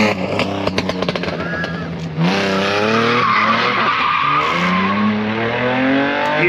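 Car drifting on a dark track, engine revving hard and rising in pitch while tires skid and squeal loudly through the slide, preceded by a few sharp clattering pops.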